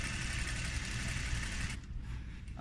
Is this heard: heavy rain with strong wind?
no